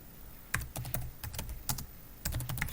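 Commands typed on a computer keyboard, quick irregular key clicks in short bursts with small pauses, close and fairly quiet, no voices.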